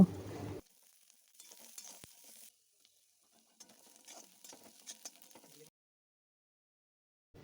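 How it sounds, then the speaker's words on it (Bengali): Onion and green chilli frying in oil make a faint, patchy sizzle with soft stirring scrapes. The sound comes in several separate bursts with near-silent gaps between them, and no voices are heard. "তেলে পেঁয়াজ আর কাঁচা লঙ্কাটা ভালো করে ভেজে তুলে নেব"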